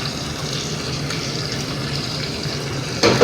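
Water drains steadily through a strainer as cooked rice is strained in a home kitchen, a constant close rushing pour that swells louder with a splash near the end.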